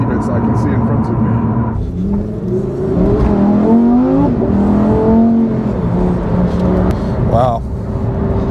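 A 2022 Lamborghini Huracan STO with its V10 engine on the road, a loud steady drone from inside the cabin that rises and falls as it accelerates, with someone talking over it.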